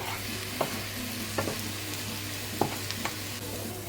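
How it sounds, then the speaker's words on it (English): A spoon stirs and breaks up bunches of enoki mushrooms in a sizzling frying pan for a chicken stir-fry, with steady frying hiss and occasional scraping knocks against the pan. "what I'm doing right now with the spoon is I'm trying to break up the bunches of enoki that are in here"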